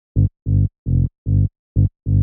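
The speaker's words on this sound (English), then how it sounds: "So the bassline itself sounds like this." A low Serum synth bass plays six short, punchy notes in a steady, evenly spaced trance rhythm, with brief silences between them and no other sounds.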